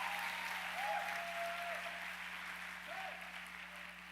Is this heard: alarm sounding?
no